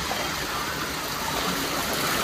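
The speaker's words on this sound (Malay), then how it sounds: "Lepas tu kita ada air terjun belah sana" A waterfall at a hotel waterpark in Perai, a loud, steady rush of falling water with no break.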